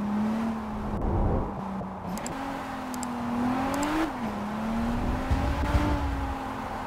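A car cruising through an open-world Japanese landscape in JDM: Rise of the Scorpion, its engine droning steadily and shifting pitch as it accelerates, with faint whirring and no talk.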